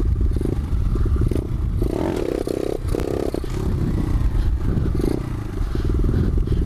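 A pit bike engine revs and pulls away after a clutch pop, a loud, close, rattling drone with clattering and surges in pitch throughout.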